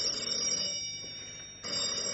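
A telephone rings in a French radio mystery drama, a close, loud bell ring that pauses briefly and then starts again.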